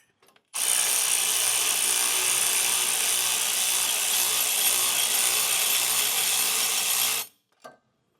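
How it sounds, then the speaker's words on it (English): A socket wrench drives bolts on a rear Air Lift LoadLifter 5000 Ultimate air helper spring install. It makes one steady, loud, continuous run of close mechanical noise lasting about seven seconds, followed by a brief faint knock. "So I'll grab my socket and then just start working at these."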